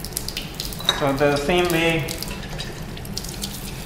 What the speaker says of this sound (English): we just rinse it with water